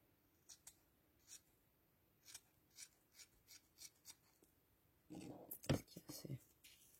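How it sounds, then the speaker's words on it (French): Scissors snip through a small piece of velvet in a string of short, crisp cuts, followed by a louder burst of rustling and rasping fabric handling close by. "Je prends mon velours. Je coupe un petit morceau."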